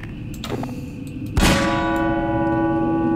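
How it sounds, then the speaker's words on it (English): A church-style bell on the Los Muertos map from Team Fortress 2, played in Garry's Mod, gives one loud clang that rings on with a long, sustained, shimmering decay over faint background sounds. "The bell rings."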